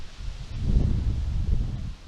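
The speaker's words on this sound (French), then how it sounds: "Écoutez le bruit du vent." Wind blows across the open bay at Mont Saint-Michel as a soft, low, steady rumble with gentle gusting swells and no other clear sounds.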